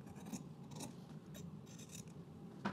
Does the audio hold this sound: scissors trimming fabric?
yes